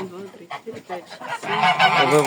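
Goose honking close by, a run of nasal calls that grows louder and more excited toward the end, with no talk over it.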